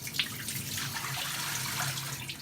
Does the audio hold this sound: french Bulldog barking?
no